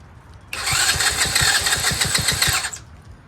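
A Tao Tao 125cc ATV engine on choke cranks over with the electric starter, a rapid rhythmic churning of about two seconds that does not catch, loud and close, then stops.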